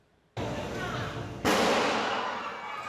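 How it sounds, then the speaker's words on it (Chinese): A loud explosion during a metro station anti-terror drill, an abrupt blast followed by a second, louder burst that rings out into a sustained reverberant roar. "一声真大声的爆炸"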